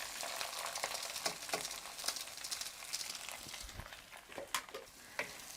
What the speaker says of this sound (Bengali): নেড়ে চেড়ে চাল ডালটাকে একটু তেলের সাথে মিক্স করে নিচ্ছি